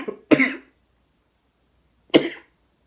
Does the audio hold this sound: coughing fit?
yes